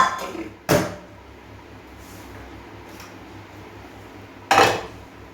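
Two sharp metallic clanks as a cooking pan is set down on a stove while making oil-pickled mango, spaced several seconds apart with quiet room tone between, close and fairly loud, no speech.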